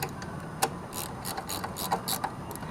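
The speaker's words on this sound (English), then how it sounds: "you might as well just do that with a gear wrench or a combination wrench" A gear wrench ratchets on the bracket bolts of a truck engine during a billet bracket install, giving close, quick bursts of metallic clicking with brief pauses against a steady background hum.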